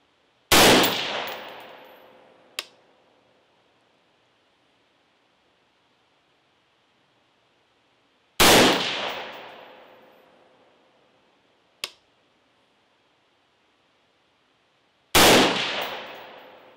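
Three loud rifle shots fired while zeroing a scope, spaced several seconds apart, each a sharp crack with a long decaying outdoor echo. A fainter metallic ping follows two of them, and no one talks.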